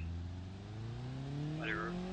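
An Ibishu Covet engine in BeamNG revs steadily upward, a continuous rising drone with climbing harmonics, moderately loud and heard alone.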